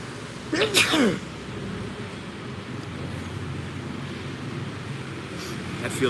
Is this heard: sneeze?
yes